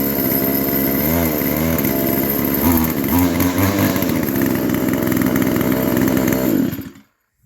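A Stihl FS 55R string trimmer's small two-stroke engine runs right after a carburetor replacement, buzzing loud and close at a steady, slightly wavering pitch for several seconds before cutting off into silence.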